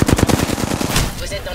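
Rapid automatic gunfire in Apex Legends, a fast, loud burst of closely spaced shots that slows and fades over about a second and a half.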